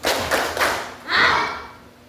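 A school class performs the 'tepuk ikan kembung' clapping routine, a few loud, sharp group claps and thuds in an uneven rhythm, with a brief vocal sound under them as they fade.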